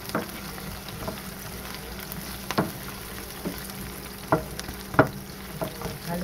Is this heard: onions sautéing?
yes